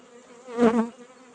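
A honeybee buzzes close by at a hive while frames of honey feed are added, one near drone swelling and fading as it passes over a faint background hum.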